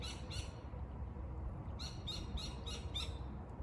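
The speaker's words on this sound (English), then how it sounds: "As I listen to some sort of woodpecker screaming up above my head." A woodpecker calls from overhead beside the flowing Hassayampa River in dryland Arizona, a pair of harsh, high squawks, a pause, then a rapid series of five or six repeated shrill notes over a low background rumble.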